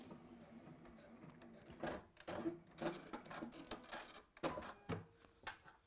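A sewing machine topstitches around a fabric piece, running in several bursts of close mechanical whirring and clatter with brief pauses and handling sounds between them.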